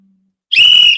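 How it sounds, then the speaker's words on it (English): A whistle is blown once, loud, shrill and steady for about half a second after near silence, during a chat among Manchester United fans. "The whistle's working now."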